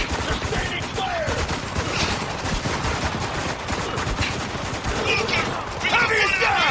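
Sustained gunfire in the video game Spec Ops: The Line, a dense, loud, continuous fusillade of rapid shots and bursts lasting throughout, with shouting voices mixed in among the shots.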